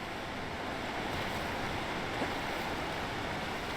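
A waterfall in the video game Palia gives a steady, even rush of falling water that holds unchanged throughout, with no voices.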